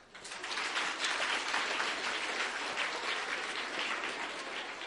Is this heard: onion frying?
no